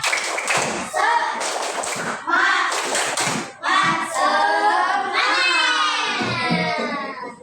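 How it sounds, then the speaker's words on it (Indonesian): A third-grade primary school class performs a rhythmic spirit clap, patterned claps mixed with children chanting together loudly and nearly continuously. "coba tepuk semangat dulu yuk"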